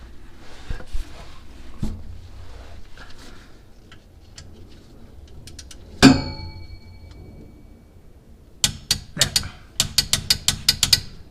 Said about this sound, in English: So for the torque wrench for this, the torque specs for this and this are going to be exactly the same, which is 30 foot-pounds of torque.